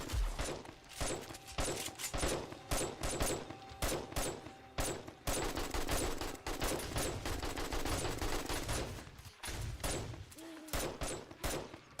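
Gunfire rattles in the survival game 7 Days to Die, rapid bursts of automatic shots cracking in quick succession over several seconds, with a brief pause near the end.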